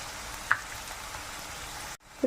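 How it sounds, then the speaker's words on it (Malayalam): Chopped shallots and onion with a pinch of salt sauté in a pan, giving a steady, close sizzle with a brief stir sound partway through. "പെട്ടെന്ന് വഴന്ന് വരാൻ ഇച്ചിരി ഉപ്പൊന്നിട്ട് നല്ലവണ്ണം വഴുത്തിയെടുക്കും"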